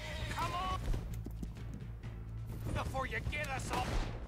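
Rhythmic hoof clops from a horse in Red Dead Redemption 2 patter steadily beneath a voice talking, with faint game ambience throughout.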